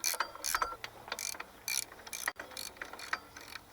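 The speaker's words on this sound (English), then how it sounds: "all you do is just go through the holes and take the screws out" A ratchet wrench clicks as it backs the pulley screws out of a Jeep 4.0-litre inline-six engine, in several short bursts of sharp, close ratcheting separated by brief pauses.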